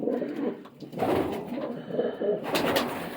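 Pigeons, including show breeds, coo steadily up close, soft throaty calls overlapping in low murmuring bursts inside an enclosed loft.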